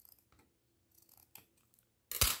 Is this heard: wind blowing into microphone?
no